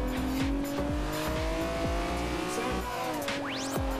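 A Lamborghini Diablo SV screams along in Forza Horizon 2, its engine howling steadily with rapid gear shifts and a rising rev sweep near the end. Tires squeal briefly, and the loud, close roar never pauses.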